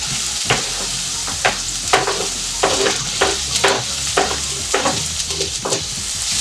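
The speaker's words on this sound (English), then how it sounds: "I'm going to fry that on a medium-ish heat" Onion frying in oil in a pan for Portuguese vindaloo, a continuous close sizzle broken by regular scraping stirs of a spatula, moderately loud, with no talking.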